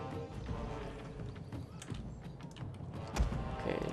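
Cavalry horses in the strategy game Total War: Rome II clatter along in a steady clip-clop of many hooves with creaking tack, moderately loud, with a sharp thud near the end.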